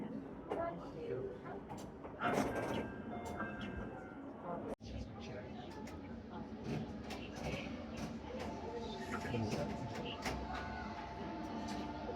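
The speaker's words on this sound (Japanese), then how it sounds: "電車が発車します。" A small model train departs, rattling and clicking along a large railway diorama at the SCMaglev and Railway Park in Japan, over a busy indoor hubbub, with an announcement voice and nearby chatter throughout.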